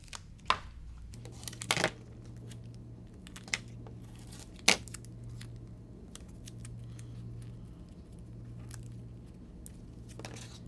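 Scissors snip through tape in a few sharp, sparse cuts amid quiet handling rustles, close to the microphone.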